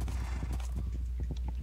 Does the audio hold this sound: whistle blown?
no